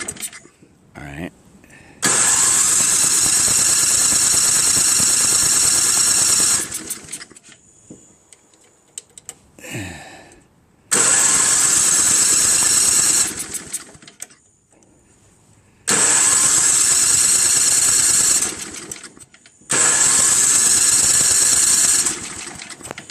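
A Craftsman snow blower's Tecumseh engine with a dirty carburetor, choked, pulled over and catching, then running loud and steady in four long bursts separated by brief quiet gaps and cranking sounds.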